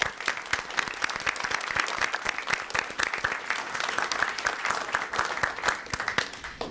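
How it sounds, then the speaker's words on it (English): An audience at a Department of Energy program breaks into steady applause, dense clapping from many hands continuing throughout at moderate volume with no talk over it. "I would like to give them a round of applause for what they do"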